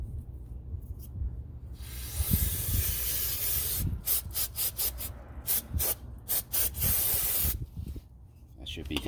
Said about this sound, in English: Spray the rotors, spray the backside, and then spray out the pistons.